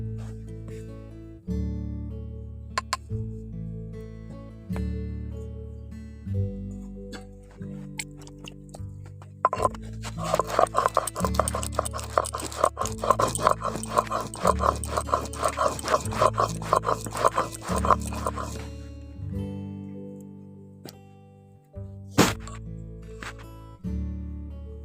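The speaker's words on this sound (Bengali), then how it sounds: "এবার মশলাটা বেটে নেব। আমি টকের জন্য হলুদ সরষে নিয়েছি," Yellow mustard seeds are ground into a spice paste with a run of rhythmic, gritty scraping strokes lasting several seconds, set against steady background music that plays before, during and after.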